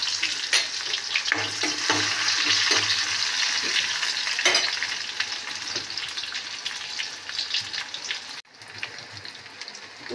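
Onions sizzle loudly and steadily in a pan with dried red chilies, cooking for kormi shak bhaja, with occasional stirring scrapes and a brief dip near the end.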